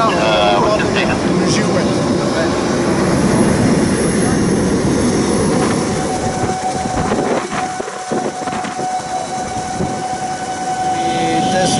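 Solar Impulse solar-powered airplane running up its engines in a ground test on an Abu Dhabi runway, a loud, steady broadband drone with a brief dip partway through, apparently with voices mixed in.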